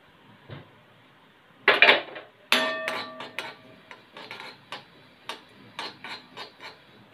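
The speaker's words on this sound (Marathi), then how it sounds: "यात आपण पहिले थोडी खसखस भाजून घेऊया।" Poppy seeds being dry-roasted in a hot kadhai make light metallic scraping and clinking as they are stirred, with an isolated knock, then a burst of clatter followed by a steady run of ticks and taps, close and fairly loud, no talking.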